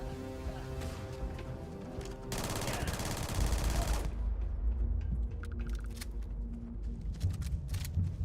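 Sustained automatic turret fire in Starfield: Shattered Space, a dense rattling barrage that swells for a couple of seconds before giving way to scattered shots and background game noise.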